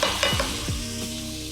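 Spoon scraping and stirring browning pepper and Cameroon pepper seasonings in a hot pot for Banga pottage, with a steady sizzle and a few close scrapes, and no voices.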